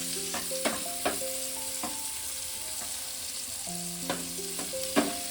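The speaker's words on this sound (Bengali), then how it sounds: "দিয়ে আমি পেঁয়াজটা মিনিট 2-3 একটু ভালো করে এটাকে ভেজে নেব" Onion fries in oil with a steady, gentle sizzle, punctuated by a few sharp scrapes and clinks of a spatula stirring the pan, close by and with no talking.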